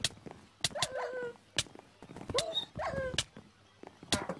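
Dogs in the Minecraft video game, a series of sharp in-game barks and yips in quick bursts, fairly loud and close with gaps between.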